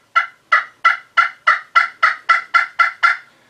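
Handmade 2-in-1 red cedar trough turkey call played with a black walnut striker, producing eleven crisp, evenly spaced yelps in a steady rhythm, close and loud with nothing else heard.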